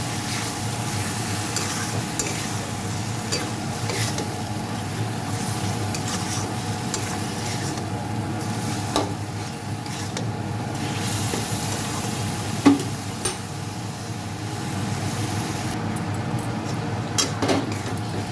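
Chicken korma meat frying with kasuri methi in a pan, a steady sizzle with a spatula stirring and scraping throughout, plus an occasional louder knock against the pan.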